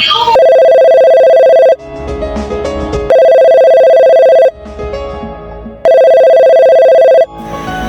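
Telephone ringing on an outgoing call, three loud electronic ring bursts of about a second and a half each, separated by gaps of music and background noise.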